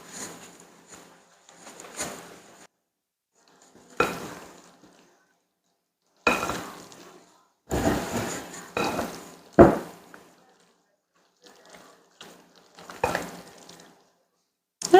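Cold hash brown potatoes being stirred in a casserole dish: irregular scraping and clattering bursts of utensil against the shredded potato, close up, with quiet gaps between strokes.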